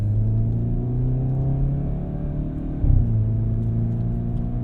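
A 2022 Hyundai Veloster N hot hatch drives at half throttle, its engine giving a steady, close mid-pitched drone with rising harmonics and a brief bump near the end, like a shift, with no talking.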